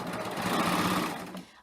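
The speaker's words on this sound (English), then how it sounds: "So this one starts by just sewing a long serger tail." A serger running a 3-thread narrow overlock sews a long tail on its own, a brief close whirring burst at steady speed that tapers off at the end.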